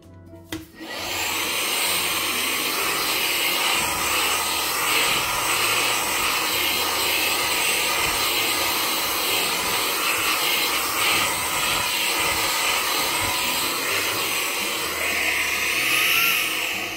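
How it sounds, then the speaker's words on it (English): A small handheld cordless vacuum cleaner runs on a kitchen countertop, a loud, steady whooshing whine that keeps going without a break for about seventeen seconds, alone and close. "That's why I keep this small vacuum on my counter. It really helps a lot in cleaning everything."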